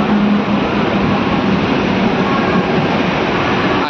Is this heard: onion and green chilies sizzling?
no